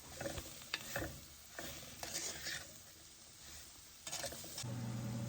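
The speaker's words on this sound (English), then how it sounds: "I have also added coconut oil to it, so I'm just going to let it cook in the oil for a bit" Spices sizzle in coconut oil in a pan, with soft frying crackle broken up by a few scraping stirs and light clinks, all fairly quiet and close.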